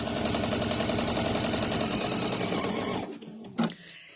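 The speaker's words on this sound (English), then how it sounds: "So we're going to stitch down the side" A sewing machine stitches down the side of a fabric bag in a fast, steady, close mechanical whir that stops abruptly near the end, followed by a brief knock.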